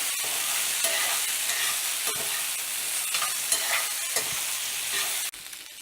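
Baby potatoes fry in a cast iron skillet with a loud, steady sizzle, broken by a few stirring scrapes as they are flipped and turned, ending in a brief clatter.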